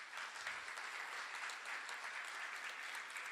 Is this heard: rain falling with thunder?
no